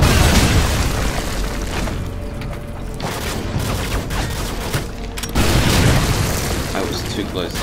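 Explosions and gunfire in the game Modern Warfare 2, loud booming blasts with crackling shots, a dense burst at the start and another heavy blast near the end, a voice speaking over the noise.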